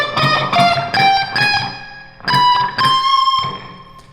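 Electric guitar plays a lick in the harmonic minor scale, clear sustained bent notes in two phrases with a brief pause between, loud and alone.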